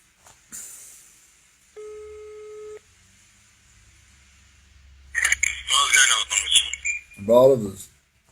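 An outgoing telephone call sounds a single steady electronic signal tone lasting about a second in an otherwise quiet line, followed a couple of seconds later by voices talking over the connection.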